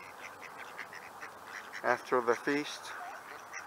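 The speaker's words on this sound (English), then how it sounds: "is quacking like crazy today" A duck quacks four times in a quick close burst at sunset in a Seattle neighborhood, over a quiet outdoor background, after a brief spoken phrase.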